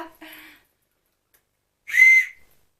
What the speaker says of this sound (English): Basically it's like a dog whistle.